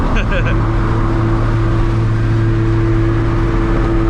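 A 1000-plus horsepower Toyota Supra MK4 cruising in sixth gear, heard from inside the cabin as a steady low engine drone with a constant tonal hum, loud and unbroken, while someone talks over it.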